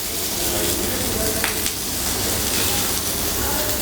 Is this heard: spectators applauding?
no